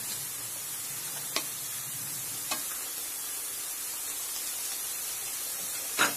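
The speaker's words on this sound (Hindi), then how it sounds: "अब हम इसको अच्छे से थोड़ा सा भुनेंगे" Vegetables for kabab sauté in a pan with a low, even sizzle. Three sharp scraping knocks come at spaced intervals as the pan is stirred. No one speaks.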